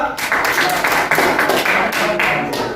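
Schoolchildren clapping for a classmate in class, a short brisk round of many overlapping claps, close and lively, with voices faintly underneath.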